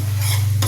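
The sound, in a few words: stirring besan and sugar syrup mixture in pan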